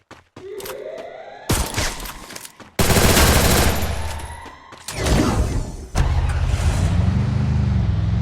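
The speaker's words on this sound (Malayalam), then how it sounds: "അങ്ങോട്ട് വെടിയൊക്കെ വെച്ച് കേൾക്കുന്നുണ്ട്" Bursts of automatic gunfire echo in a shooter video game amid vehicle engine noise, loud and close in clusters with short pauses between volleys.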